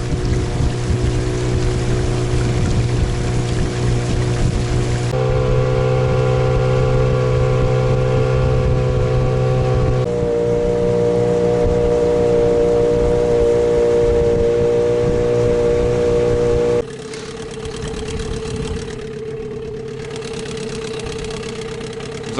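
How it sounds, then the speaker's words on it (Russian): A small Suzuki 6 outboard motor on a loaded boat drones steadily at close range, its pitch shifting a few times as the throttle changes. "такая скорость на Suzuki 6, когда я еду груженным в тайгу"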